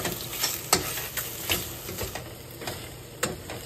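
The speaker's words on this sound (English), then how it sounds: "Now you mix until it's all stirred." Noodles tossed and stirred with soy sauce, oyster sauce and chili oil, giving irregular soft wet scrapes and clacks of utensils against a bowl, fairly close with no talking.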